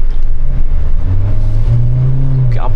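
A 2025 Mahindra Thar SUV engine accelerating, a loud, close, throaty low drone that rises in pitch over nearly three seconds, heard from inside the vehicle.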